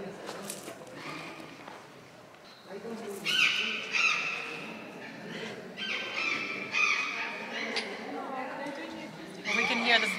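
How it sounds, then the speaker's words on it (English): Bird calls sound repeatedly outdoors in northern Argentina, mixed with people talking nearby; the calls come in short bursts at moderate loudness. "We can hear the bird very well."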